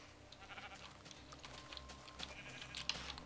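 Sheep bleating in Minecraft, a few short game bleats over a quiet background with faint keyboard typing.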